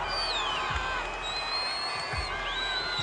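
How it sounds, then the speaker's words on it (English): A cricket crowd cheers and whoops under floodlights after a wicket falls, with loud, dense, sustained noise, shrill whistles and high yells rising above it throughout. "The crowd is alive."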